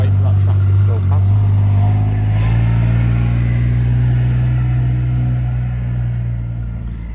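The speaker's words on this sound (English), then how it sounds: "I'll just wait for that tractor to go past" A tractor drones past outdoors in the countryside, a loud steady low engine hum near at first that slowly fades as it moves away, with no speech over it.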